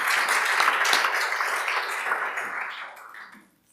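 A seminar audience gives a round of steady, dense applause that holds at moderate level and then tapers off to silence.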